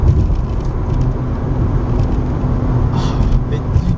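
A Mazda RX8 cruising at 50 mph around 4000 RPM gives a steady, loud interior engine drone with dense road rumble, constant and unbroken throughout.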